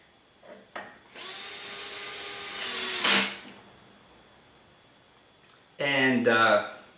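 Power screwdriver driving screws into a Trex 700E PRO DFC RC helicopter during assembly, with two sustained whirring bursts of a few seconds each separated by a quiet gap, close and fairly loud, plus a brief click at the start.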